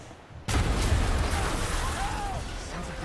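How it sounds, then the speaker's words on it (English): A video game explosion in Marvel's Spider-Man bursts in abruptly as a loud boom and then settles into a sustained rumbling roar with scattered debris and crackle. No one speaks. "Last explosion."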